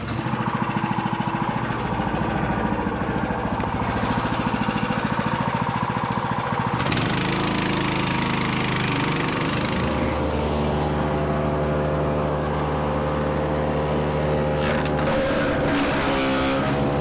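A small Kubota BX tractor engine runs steadily in a woodyard, loud and close. The pitch shifts as the load changes, then settles into a throbbing idle with a deep, steady hum.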